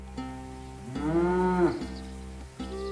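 A single cow gives one long, loud moo in the middle of the clip, rising and holding for under a second before breaking off, set against a steady low background hum.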